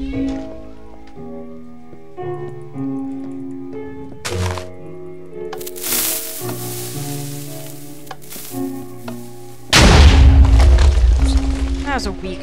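A shot in the Super Pirate Battle Royale game plays over tonal game music as a sudden booming blast near the end, with a shorter thump earlier.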